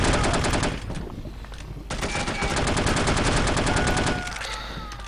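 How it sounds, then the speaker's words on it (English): Rapid, continuous gunfire from the No One Lives Forever video game: loud automatic bursts hammering nearly nonstop, with a brief lull before a second sustained volley and a trailing stretch of lighter shots. "Let's actually shoot him like this."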